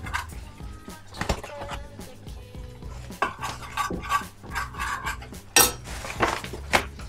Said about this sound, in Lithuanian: pakepina miltų truputėlį svieste